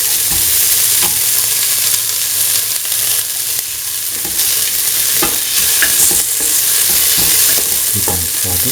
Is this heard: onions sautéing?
yes